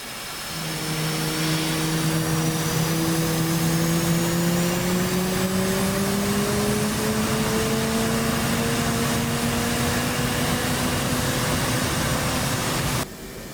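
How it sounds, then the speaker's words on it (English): Left jet engine of an F/A-18C Hornet spooling up in the DCS flight simulator, a steady loud turbine whine with tones rising slowly in pitch over a broad roar, cutting off abruptly near the end. "Now we need to start up the left engine."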